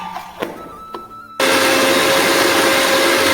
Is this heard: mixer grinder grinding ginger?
yes